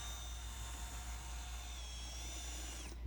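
An electric drill with a paddle mixing attachment whirs steadily as it stirs tile mortar, a continuous high motor whine with a low churning rumble underneath, ending as the drill winds down after about three seconds.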